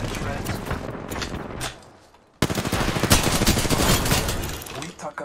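Rapid automatic gunfire in the video game Apex Legends, close and loud, in sustained bursts with a short lull before resuming even harder, with game voice chatter mixed in.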